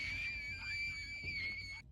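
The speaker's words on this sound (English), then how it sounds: "A sudden loud scream sends the girls running in terror." A loud, sustained high-pitched scream from a played video runs almost two seconds without a break, wavering slightly in pitch.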